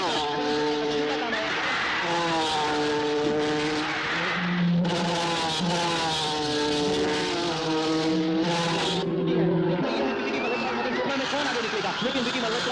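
Race cars in a movie racing scene, engines revving and rising in pitch as they accelerate, with tire squeals, all under continuous excited commentary.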